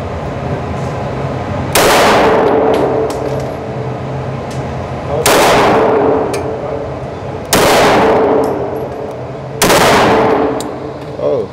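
Four loud, sharp gunshots from a Polymer80 pistol ring out at an outdoor range, spaced a couple of seconds apart, each with a long echoing tail over steady background noise.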